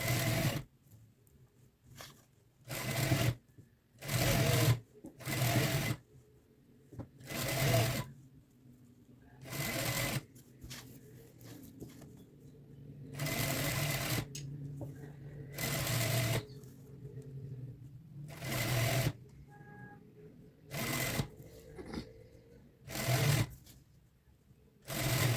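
A sewing machine runs stitching gathers into a fancy lehenga with elastic, in repeated bursts of rapid whirring with short pauses between, close and clear.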